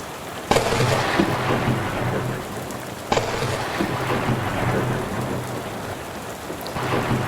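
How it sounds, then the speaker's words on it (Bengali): Heavy rain hisses steadily in Savar Nabinagar, Bangladesh, while sharp thunder cracks strike twice, loud and close, with a third rumble near the end. "টানা 2 ঘন্টা যাবত লাগাতার বৃষ্টি পড়ছে, বাজ পড়ছে।"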